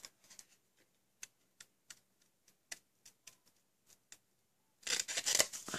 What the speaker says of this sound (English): It's a matter of just closing your scissors and turning your paper.